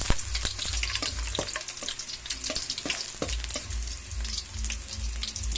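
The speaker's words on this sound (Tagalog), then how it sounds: "Talsik ng mantika." Garlic fries in hot oil in a pan (kawali) for a vegetable-and-pork coconut stew, with steady sizzling, sharp oil splatter pops and occasional utensil scrapes throughout, fairly close and with no talking.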